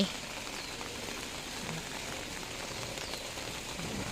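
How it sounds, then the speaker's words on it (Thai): Steady, dense rain pours down continuously, a broad hissing wash with no voices and no pauses. "ฝนตกบรรยากาศฝนตก"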